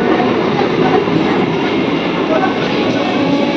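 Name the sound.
local train entering station on up line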